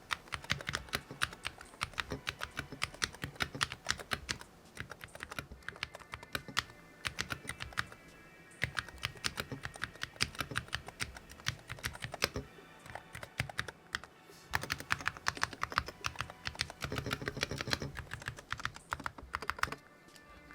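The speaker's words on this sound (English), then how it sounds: "That's not a bad sounding keyboard for Hall effect, and for 52 bucks." Continuous typing on a budget Hall effect keyboard priced around 52 dollars, a steady close-up clatter of keystrokes with brief pauses, no voices.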